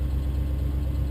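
A truck engine idles in a steady, low, unbroken rumble throughout, close by and with no voices.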